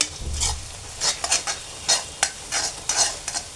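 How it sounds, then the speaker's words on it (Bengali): Scrambled egg being stirred and broken into crumbs in a hot frying pan, with repeated scraping strokes of a utensil in an irregular rhythm over a steady sizzle of oil, close up and without talk. "হয়ে গেছে ডিমটা ঝুরি করা"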